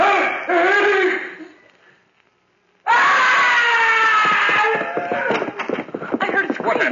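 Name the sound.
scream in an old-time radio horror drama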